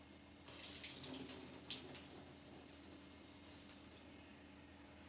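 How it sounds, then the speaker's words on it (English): Tap water runs into an opened can of drained chickpeas as they are rinsed, a steady close hiss and splash starting abruptly and then easing to a softer flow. "I'm going to rinse them right here in the can"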